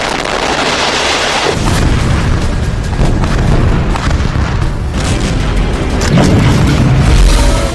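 Explosion of a 2000 kg bomb in Gaza, a loud booming blast with heavy low rumble and crackling debris, recurring surges of roar across several seconds, close and overwhelming.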